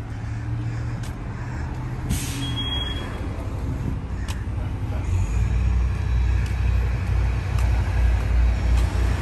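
A truck drives past on a city street near a parked Grand River Transit vaccination bus, its engine rumble building to a loud, steady low drone over constant wind noise, with a faint short hiss partway through.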